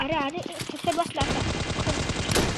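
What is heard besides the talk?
gunshots in Scarfall video game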